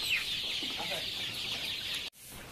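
Desi hens on a rooftop poultry farm cluck and chatter in a dense, lively chorus, loud and close, before the sound cuts off abruptly near the end.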